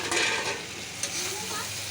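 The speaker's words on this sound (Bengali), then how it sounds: "আমি এটাকে এখন ভালো করে নেড়ে এটাকে এখন যতক্ষণ না তেল ছাড়ছে ততক্ষণ নাড়বেন" A spice mix fries in oil in a pan while being stirred, giving a continuous close sizzle with a faint scrape of the spoon, short and moderately quiet.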